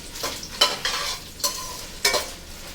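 Dried red chillies fry in a pan for a gongura pickle, giving bursts of crackling sizzle with stirring scrapes, several distinct surges of frying noise, close and moderately loud with no talk.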